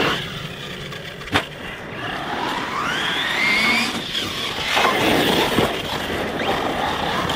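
Small engine revs rise and fall as the throttle is feathered, with a whining pitch sweeping upward and back down over outdoor rumble and a sharp knock early on.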